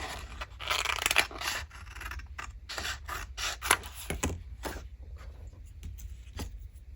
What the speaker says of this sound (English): I'm gonna cut this out.